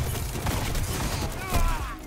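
Crimil's Dagger, a slow-firing high-impact hand cannon in Destiny 2, fires amid dense, continuous game combat noise during an Iron Banner 6v6 match, with one louder burst standing out near the end.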